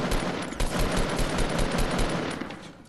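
Rapid, continuous automatic gunfire in a Fortnite match, loud and close with a dense, rattling stream of shots that barely pauses across the few seconds.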